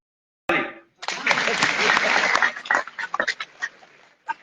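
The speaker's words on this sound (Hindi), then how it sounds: "बजाओ ताली।" Crowd clapping at a teachers' association honouring ceremony on World Teachers' Day in Madhya Pradesh, a dense burst of hand claps that swells and then breaks into scattered, uneven claps before fading.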